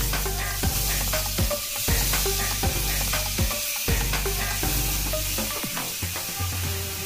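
Chicken fries in a pan with a steady loud sizzle and crackle, interrupted by regular scraping strokes and clanks of a utensil against the pan, close and continuous.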